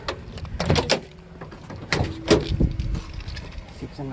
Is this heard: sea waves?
no